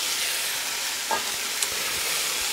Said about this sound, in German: In dem Bratfett der Bratwurst braten wir dann jetzt die Zwiebeln an.